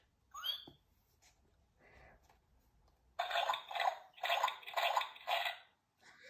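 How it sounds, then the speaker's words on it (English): Splashing in muddy puddles plays as a sound book effect: a few faint early drips and blips, then a run of four or five loud watery splashes in quick rhythm. "Everyone is having a wonderful, noisy time jumping and splashing."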